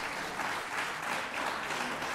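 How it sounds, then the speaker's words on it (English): An audience at an anniversary celebration of an African distance-education council breaks into steady, even applause, a dense, continuous clapping that fills the room with no talk over it. "I think we can give a big round of applause"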